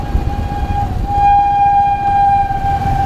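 Warning at a railway level crossing near a station in West Bengal, a loud, sustained electronic tone with a steady pitch that holds throughout over low road rumble.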